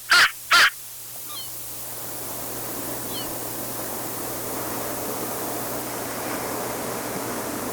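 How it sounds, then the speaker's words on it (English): Crows at Cranberry Road in Long Beach give two sharp, close caws, followed by fainter distant calls over a steady wash of surf noise. "I get some crows right now at Cranberry Road in Long Beach."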